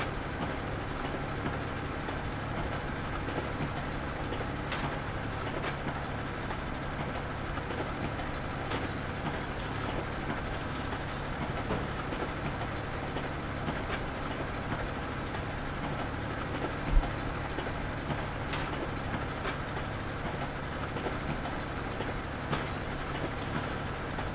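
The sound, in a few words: Krone Ultima CF 155 XC baler working, Farming Simulator 2015 game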